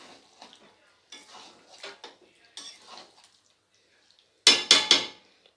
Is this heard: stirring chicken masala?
yes